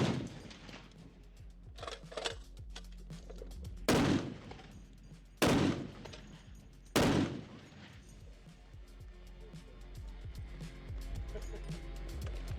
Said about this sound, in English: You guys watch them shoot a gun for a second.